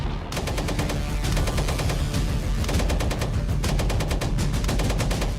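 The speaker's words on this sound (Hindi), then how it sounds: "गोलियों की तड़तड़ाहट से थर्रा उठा गौरीचक" Rapid bursts of machine-gun fire during an armed clash over election dominance in Gaurichak, Bihar, loud and continuous with dense rattling volleys and brief pauses between strings of shots.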